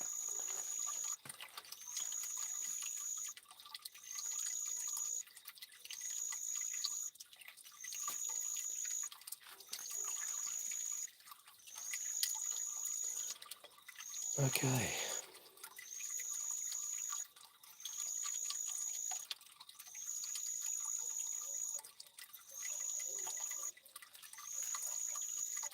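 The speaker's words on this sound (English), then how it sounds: "Can you hear the water in those planters there?" Water dripping into garden planters at night, heard as faint, steady drips against a constant high chirping of insects in rhythmic bursts, with one brief louder knock partway through and a single short spoken word.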